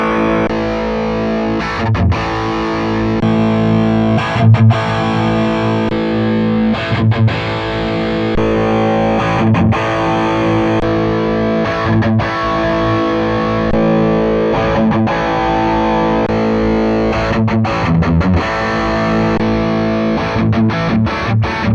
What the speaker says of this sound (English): Now let's listen to different cabinets from AMT True Cap library I've mentioned before.